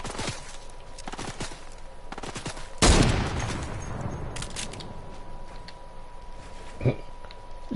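Gunfire in a Fortnite solo match: several sharp shots and short bursts, then a louder blast with a decaying tail and a later single shot, with a voice talking faintly underneath.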